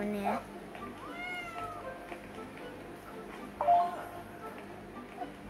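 A cat meows in The Sims FreePlay mobile game, two short meows set apart by a few seconds against quiet game background sound, while a person talks faintly beneath.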